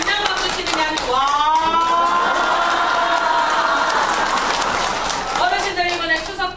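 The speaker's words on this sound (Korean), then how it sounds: "박수 칠 때 그냥 박수 치는 게 아니고 와." Seniors at a Korean elderly safety-education class with laughter and exercise clap and cheer together, a loud sustained burst of applause mixed with crowd shouts of "wa" that swells, holds steady and then tapers.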